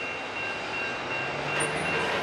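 A Norfolk Southern NS 233 freight train heading west rumbles steadily with a faint high metallic squeal of wheels, heard from a distance as a continuous wash of noise.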